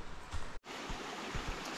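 A river flowing beside the Pacific Crest Trail near Mammoth Lakes in the Sierra: a steady broad rush of water, cut by a brief drop to silence, with low thuds underneath.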